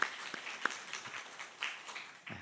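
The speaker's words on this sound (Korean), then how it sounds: "함께 박수로 환영해 주시기 바랍니다" A church congregation at a Christmas service claps to welcome a newcomer: scattered, uneven hand claps of modest loudness that trail off, with no talking.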